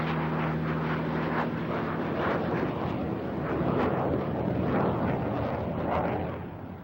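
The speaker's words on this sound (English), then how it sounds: "the Luftwaffe's most advanced fighter, the Messerschmitt Model 262" A Messerschmitt Me 262 jet fighter roars past in a loud, sustained jet rush that swells slightly and then fades at the end.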